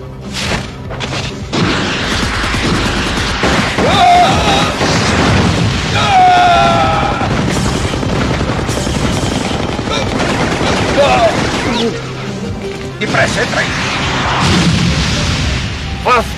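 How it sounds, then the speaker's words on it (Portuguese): Gunfire shootout effects from a dubbed 1993 animated film: bursts of rapid shots, booms and crashes run almost continuously, loud and dense, with voices and other effects mixed in. "Isso não é um simples tiroteio."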